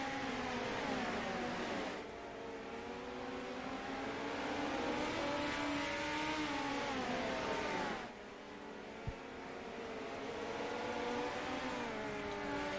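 Midget race cars lapping a speedway oval at a Turkey Bowl race, their engines whining and rising and falling in pitch as the cars sweep around, with brief drops in level between passes.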